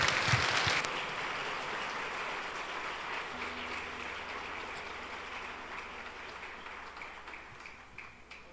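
A church congregation at Sunday Mass applauds to welcome children, a broad, even rush of clapping that starts strongly and slowly tapers off, with a faint organ tone held beneath.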